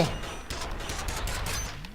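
Rapid gunfire from the first-person shooter F.E.A.R. fills a continuous two-second burst of shots over game noise, steady and fairly loud throughout.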